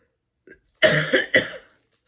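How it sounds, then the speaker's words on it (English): A short burst of three harsh coughs, close and loud, following a faint breath. "Cough has come again, isn't it?"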